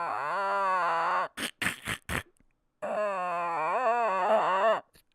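A dog makes drawn-out whining, grunting vocal sounds close up, then a few short choppy bursts and a pause before another long wavering moan.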